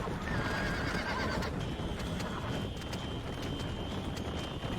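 Horses in a Red Dead Redemption race whinny and neigh over a steady clatter of galloping hooves, the calls drawn out and high, continuous through the stretch with no talk.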